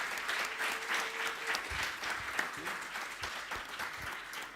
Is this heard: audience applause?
yes